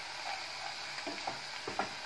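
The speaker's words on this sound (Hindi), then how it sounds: "प्याज को हमें अब हल्का पिंक होने तक भूनना है।" Onions frying in a pan for egg curry give a faint, steady sizzle, with a few soft stirring scrapes near the end of the short stretch.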